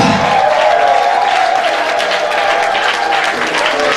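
A church congregation applauds loudly to acclaim Jesus Christ, dense continuous clapping from a crowd that fills the whole room without pause.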